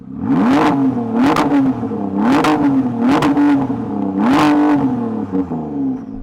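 A Ford GT or Corvette Z06 engine revs repeatedly, rising and falling in loud, throaty bursts with a steady rumbling idle between them.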